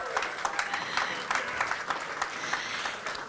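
An audience at an Oklahoma primary election night event claps for a candidate's family, a dense, even round of applause with brisk overlapping claps at moderate volume.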